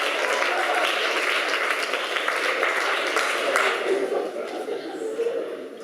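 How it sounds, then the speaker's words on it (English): Audience applause at a live comedic literary performance: broad, sustained clapping under talk, strong at first and thinning toward the end. "Come on, clap for that."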